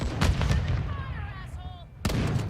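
Grenade blast and gunfire in the video game Call of Duty Modern Warfare II, with booming broadband bursts at the start and a sharp loud burst near the end over continuous rumbling combat noise.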